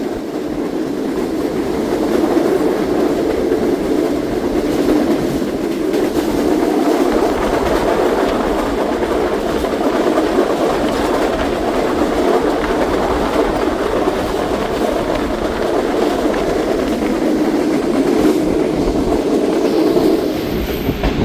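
The Shalimar/Pakistan Express rolls steadily over a bridge, a loud, continuous rumble of wheels and carriages heard from on board with a faint rhythmic clatter throughout.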